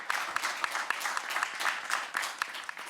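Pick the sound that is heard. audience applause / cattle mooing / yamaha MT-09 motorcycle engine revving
audience applause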